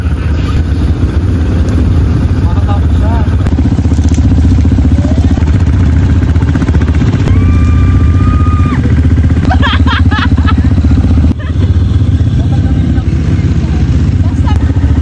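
A motorcycle engine starts and keeps running with a steady, loud, close rumble throughout, while people talk over it.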